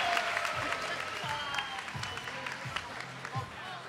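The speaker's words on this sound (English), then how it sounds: "can I get a big round of applause for Asia Negron?" An audience at a Muay Thai fight night applauds a fighter, a crowd clapping under an announcer's voice, with scattered cheers and a few louder bursts.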